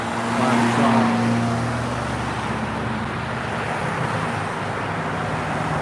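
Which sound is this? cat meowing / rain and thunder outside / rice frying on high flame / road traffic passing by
road traffic passing by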